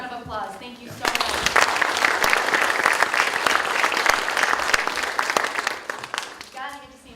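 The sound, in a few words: audience applause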